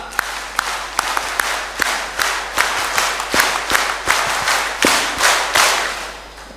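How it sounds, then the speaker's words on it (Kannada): An audience at a live public gathering of a Karnataka trust claps for several seconds in scattered, uneven bursts that swell and fade, loud and fairly close, with no talk over it. "ಚಪ್ಪಾಳೆ ಸ್ಟಾರ್ಟ್"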